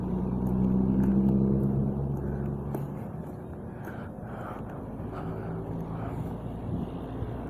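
Car traffic rolling along a street outside a shop, a steady low engine and tire rumble with a louder pass early on, then continuing at a moderate distance with faint wind.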